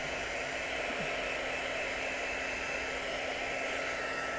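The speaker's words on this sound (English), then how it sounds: "I'm going to set that with one of these heat guns" A steady, loud hiss of blowing hot air from a heat gun drying ink on a card runs without a break, held close and switched on the whole time.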